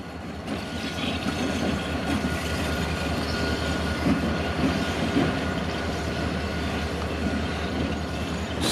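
A freight train rumbles steadily along the rails, a continuous low roar with faint wheel clatter and squeal, close by and unbroken throughout.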